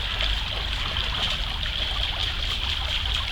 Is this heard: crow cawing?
no